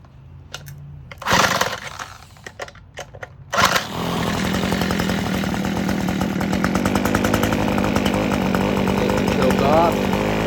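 An abandoned string trimmer engine: a few sharp pull-start bursts, then the two-stroke motor catches and runs steadily with a loud, buzzing drone that continues to the end.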